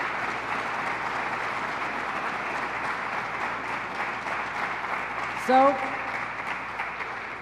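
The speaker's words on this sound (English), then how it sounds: "I want to applaud you." Steady applause from an audience at a state crime-reduction event in Rochester, honoring community violence-disruption workers, continuous and even throughout with a brief spoken word near the end.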